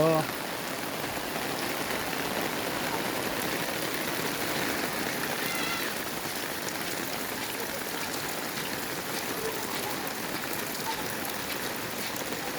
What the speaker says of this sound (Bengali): অনেক মুষলধারে বৃষ্টি